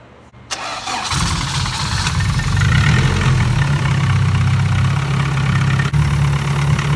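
A Honda B-series car engine cranks briefly, catches and settles into a steady, loud, close idle, running somewhat noisily with a slight valve tick.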